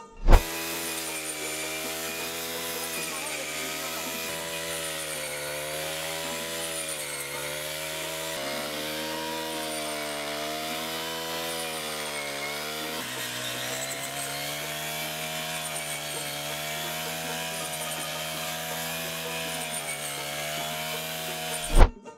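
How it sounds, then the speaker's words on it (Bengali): An automatic rice cutting machine harvests paddy, its engine droning steadily and loudly with wavering pitch, alone without talk. "এই ধান কাটার মেশিনটি চালানো সহজ।"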